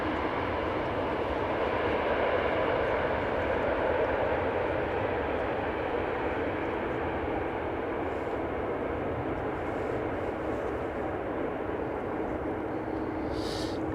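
Airplanes arriving on the Polderbaan runway at Amsterdam Schiphol Airport make a steady, broad engine roar that holds evenly for the whole stretch, heard from a moderate distance.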